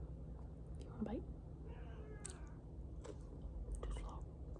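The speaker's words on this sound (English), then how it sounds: "That was my cat." A soft cat meow stands out briefly against a quiet room, with faint rustling and low background hum around it.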